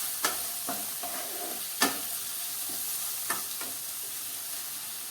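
Capsicum curry is stirred in a pan over a soft, continuous sizzle, with a few sharp spoon scrapes spaced irregularly. The sound is quiet and close, and no one speaks.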